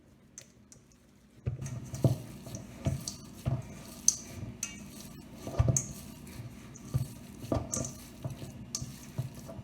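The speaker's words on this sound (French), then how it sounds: "Hop, je mélange, comme ça il y a du chocolat partout." Chocolate being mixed into cookie dough in a bowl by hand, giving a run of soft, irregular scraping and clacking strokes up close, alone with no talk.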